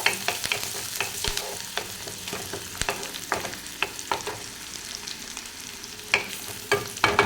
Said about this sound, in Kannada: ಹಸಿಮೆಣಸಿನ್ಕಾಯಿ ಇದು ಚೆನ್ನಾಗಿ ಫ್ರೈ ಮಾಡ್ಕೋಬೇಕು